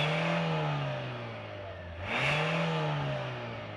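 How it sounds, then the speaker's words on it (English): A 2024 Hyundai Santa Fe engine, heard from outside, holds a steady hum, dips briefly, then rises into a louder rev that settles back to a strong idle-like drone. "since we got a cool motor and transmission, we should probably listen to it from the outside"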